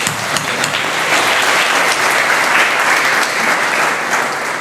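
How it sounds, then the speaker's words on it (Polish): Loud, dense applause from the audience for club athletes at the 60th jubilee of MKS Hermes Gryfino sports club, continuous clapping throughout with no voices standing out. "Brawa dla naszych zawodników."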